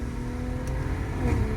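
BMW M340i xDrive with a B58 engine and custom XHP tune in sport setting, a steady low engine drone rising slightly in pitch as it revs, heard from inside the car with no voices.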